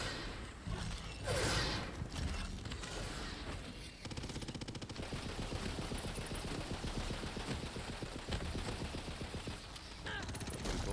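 Rapid SMG fire from a shooter in Tiny Tina's Wonderlands, a dense rattling burst running almost nonstop at close range, mixed with other game effects.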